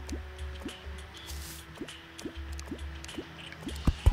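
Water drips in Terraria, a steady run of single plinks about every half second over a low ambient hum, with a couple of louder drops near the end.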